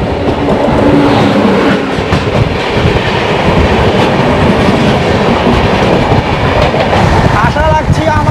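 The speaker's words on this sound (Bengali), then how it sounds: "চিচাকির দিকে আমাদের ট্রেন ছুটে চলছে।" Jammu Tawi Express passenger train running at speed on rails between Ayodhya and Kolkata, a steady loud rumble with rhythmic clickety-clack of wheels over rail joints heard from inside the coach throughout.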